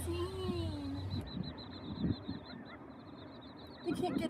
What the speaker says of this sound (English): Look at these little baby quail.